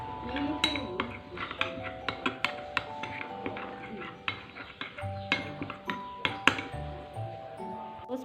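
Rice flour batter with water stirred in a bowl for topokki, with repeated clinks and taps of a spoon against the bowl in an uneven rhythm, close and moderately loud, while a person talks now and then.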